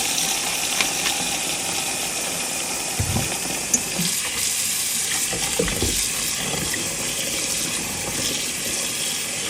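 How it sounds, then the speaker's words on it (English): Cold water gushes from a kitchen tap into a big bowl, a loud, steady broadband rush with occasional splashy knocks, close and continuous with no talking. "Add some cold water and a little bit of white vinegar,"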